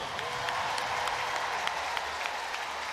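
A crowd in an athletics stadium at the Commonwealth Games claps steadily during the women's 200m heats, a dense, even wash of applause heard from a distance for the whole stretch.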